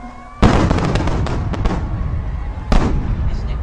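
Wolverine display fireworks burst in two loud, sharp booms a couple of seconds apart, each trailed by crackling and rumbling echoes, heard fairly close.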